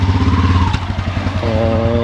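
A motorcycle engine runs close by, with a throbbing idle whose pitch dips and then settles into a new steady note.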